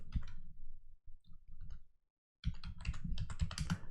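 Computer keyboard being typed on while entering a form label in a database program, bursts of quick clicking keystrokes, a brief pause, then a dense run of taps, close and clear with no talking.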